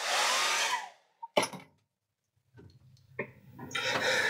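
A heat gun blows hot air onto fresh paint on a fishing lure, a loud whooshing hiss that cuts off, gives a short burst, falls silent, then restarts and builds steadily.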